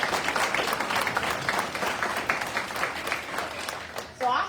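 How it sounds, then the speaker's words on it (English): People at a school board and community meeting give a warm round of applause, a steady crowd clapping that carries on for several seconds and stops abruptly as a voice begins. "So just give her round of applause just for being here."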